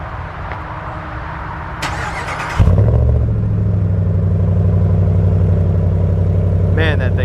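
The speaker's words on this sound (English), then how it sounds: "let's go ahead and start the Ram up now" A 2019 Ram 1500 pickup truck's engine cranks and catches at once, settling into a loud, deep, rumbling idle with a raw, unmuffled straight-pipe exhaust tone.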